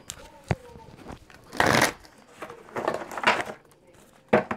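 Tarot cards are shuffled in short riffling bursts, crisp papery flutters with pauses between them, close by, while a person speaks softly.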